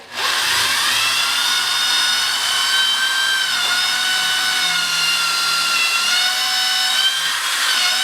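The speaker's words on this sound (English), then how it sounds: "So I'm going to drill a 1/4 inch pilot hole." A power drill whines loudly and steadily for several seconds, boring a 1/4-inch pilot hole, its pitch dipping slightly as the bit bites into the wood, with no talking.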